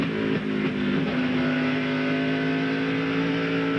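A damaged stock car with its front end bent and folded keeps circling the track in a 2000 NBS Food City 250 race, its engine a loud, steady drone that holds one pitch.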